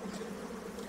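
Angry honey bees swarm around an opened hive, a dense continuous buzzing hum close to the microphone with no voices.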